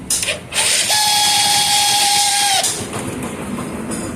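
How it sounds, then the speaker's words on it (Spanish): A Pulsar motorcycle is started, its electric starter motor whining loudly for about two seconds with a high mechanical tone, then cutting off as the engine idles under a lower rumble. "aquí tenemos otra moto, vamos a encenderla para ver cómo suena, que tiene un sonido parecido."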